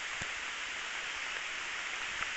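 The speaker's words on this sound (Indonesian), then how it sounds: "Ini agak gerimis teman-teman ya, mungkin kameranya agak sedikit blur nanti." Light drizzle falls in a bird's-eye chili garden near a house, a steady, soft hiss of rain with a few faint drop taps and no talking.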